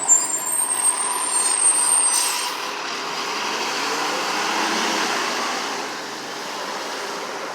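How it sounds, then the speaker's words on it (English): A truck passes through a Boston intersection with a loud hiss of air brakes at the start, then a steady broad rumble of traffic that slowly fades. "Almost met with that truck over there too."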